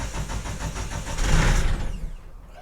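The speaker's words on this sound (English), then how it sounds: "I started the engine!" A narrowboat's engine being started, with a rough chugging crank that builds into a louder churning surge, then dies away to quiet after about two seconds, with no voices.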